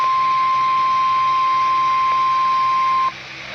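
An Emergency Alert System weekly test tone holds a single steady, loud electronic beep for about three seconds over a faint hum, then cuts off into near quiet.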